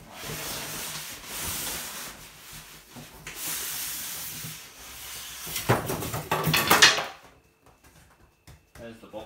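Cardboard box being pulled off a Hisense television, heard as sustained scraping and rubbing that grows louder with crinkly rustles near the end, then drops to near quiet.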